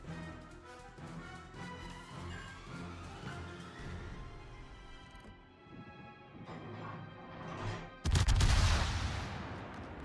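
Warship guns fire in a naval battle game: a run of muffled shots and rumbling impacts gives way to a sudden loud, broadband blast near the end, with a musical game score underneath.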